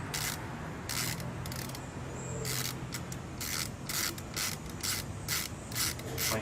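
A spark plug is turned by hand into its threaded hole, giving close, dry ratcheting scrapes and rubs in irregular bursts over a steady background hum.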